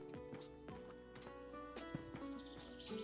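A horse in the tavern-management video game Tavern Manager Simulator, with soft clip-clop hoof steps and faint animal sounds set over quiet looping game music and tones.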